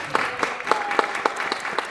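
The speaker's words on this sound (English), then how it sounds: "And a round of applause for everyone today." A small convention audience clapping together in a steady, even rhythm, close and moderately loud, for a couple of seconds.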